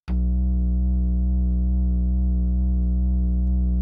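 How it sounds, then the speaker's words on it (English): A loud, steady synth bass from the UVI Toy Suite instrument drones with a fast rhythmic pulse wobbling through it, sustained and unbroken after a sharp attack. "we get a very nice pulsing bass line"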